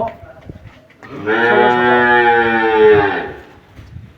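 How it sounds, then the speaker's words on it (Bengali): A dairy cow, a young milking animal still without adult teeth, gives one long, loud, close moo lasting about two seconds, with quieter farmyard sounds before and after. "দেখেন, এটা অদাতের একটা গরু,"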